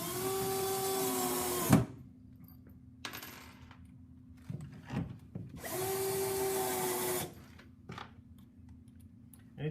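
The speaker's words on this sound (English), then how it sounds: "we'll go ahead and put some screws in there." A power drill drives screws into a frameless mount during a permanent installation, with two long whirring runs separated by quiet gaps and small clicks, close by and with no talking.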